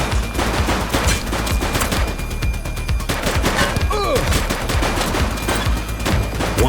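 Rapid gunfire crackles through a police shootout in The Precinct video game, dense volleys and single shots layered continuously over background game noise and some shouted voices.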